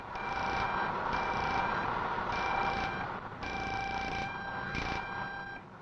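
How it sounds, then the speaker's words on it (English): A holiday detector runs along the wrapping on a welded pipeline to find faults, giving a loud, continuous electrical buzz with steady tones and short pulsed beeps that repeat at irregular intervals. "The holiday detector quickly finds out any faults which may have developed in the wrapping during handling."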